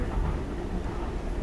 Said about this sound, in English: the second journey on a DLR train for me today